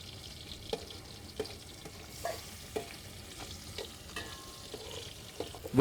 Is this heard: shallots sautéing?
yes